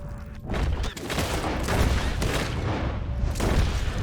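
Gunfire rattles in Red Dead Redemption 2 from a horse-drawn wagon, a rapid run of booming shots repeating over a few seconds amid continuous clatter and rumble.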